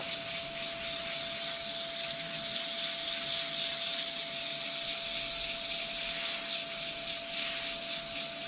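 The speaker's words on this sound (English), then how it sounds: "Does anyone ever sand like that" Sanding a wooden baby rattle on a lathe: a steady, continuous rubbing hiss over a constant motor hum, even and unbroken throughout, no talk.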